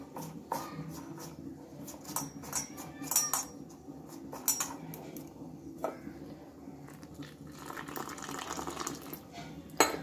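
Water is poured into a batter of potato and coriander leaves for chop and worked in by hand or spoon, giving wet squelching and scraping over steady low background noise, with faint clinks of utensils.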